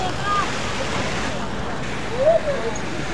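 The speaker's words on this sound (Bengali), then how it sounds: "কৃত্রিম ঝর্ণাটা সত্যি অসাধারণ ছিল।" An artificial waterfall fountain at Golden Star Park, an amusement park in Narsingdi, gives a steady, fairly loud rush of falling water throughout, with faint voices in the background.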